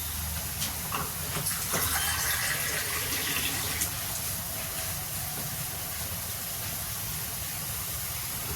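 Water pours into a cooking pan of potato and aubergine sabzi with tomato and sizzles against it, a steady hiss and rush that rises at first and then settles into a softer bubbling.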